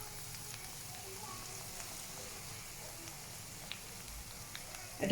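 Okra and fish roe fry together in a pan, giving a soft, steady sizzle that stays faint and even throughout, with a small bump of louder noise right at the end.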